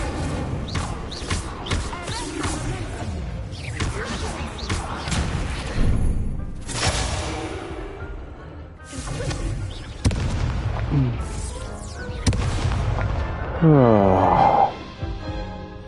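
Incendio fire spells blast repeatedly in a Harry Potter video game, a series of loud booming bursts and whooshes spread across the clip, with crackling flares and a swelling roar near the end.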